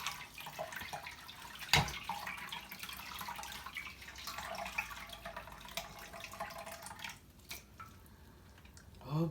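Bitter leaves are rinsed by hand in a bowl of brownish water, giving soft sloshing, splashing and dripping with a sharper splash near the start, quiet and close.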